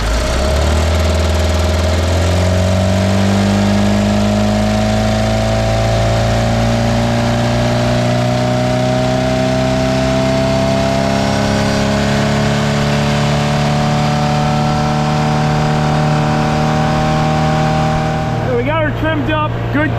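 An outboard boat motor pushed to full throttle with three people aboard and the trim down, roaring loud and close as the pitch climbs steadily during takeoff, with wind and water noise mixed in and a choppy burst near the end.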